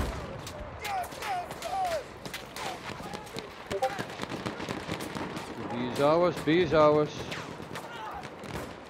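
Gunfire in Battlefield 1 cracks in scattered sharp bursts, some near and some distant, while a voice speaks briefly and other in-game voices chatter throughout.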